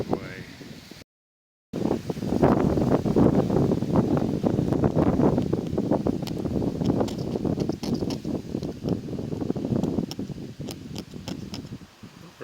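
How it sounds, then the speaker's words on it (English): Strong wind gusts outdoors buffet the microphone with a loud, continuous roar and rustle during a windscreen chip repair. Someone talks under the noise. "a lot of wind, sorry about the noise"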